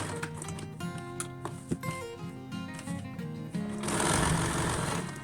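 An electric sewing machine stitching folded fabric edges for a jumper dress, its rapid mechanical whir running steadily and growing louder and denser toward the end.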